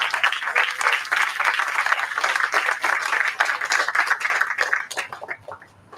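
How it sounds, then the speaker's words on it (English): A crowd at a groundbreaking ceremony for a senior living community center gives a round of applause, lively steady clapping that thins out and fades near the end. "One more round of applause, please."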